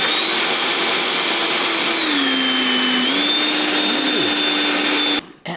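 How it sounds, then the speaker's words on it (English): A kitchen blender whirs loudly and steadily for about five seconds, its motor pitch dipping and then recovering as it churns through the mix, before cutting off abruptly near the end. "Glenda the blender"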